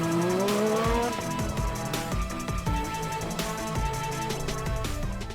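A Toyota rally car with a non-turbo three-cylinder engine revs hard near 8,000 to 10,000 rpm, a loud buzzing engine note climbing and dropping through gear changes in a rally setting, with faint tire squeal.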